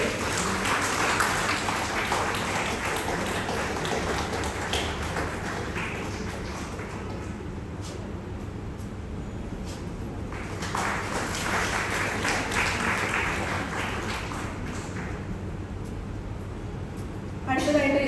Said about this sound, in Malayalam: നല്ലൊരു കൈയ്യടി കൊടുത്തേ.